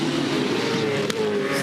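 A race car at the Townsville 500 International Supercars race locks its brakes near turn 3, a loud tonal tyre screech riding over roaring engine noise throughout the short moment.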